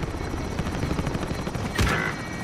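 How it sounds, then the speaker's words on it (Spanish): A helicopter in Call of Duty: Modern Warfare throbs with a steady rotor chop under dense combat noise, and a sharp burst of gunfire cuts through near the end. "¡Hay el helicóptero!"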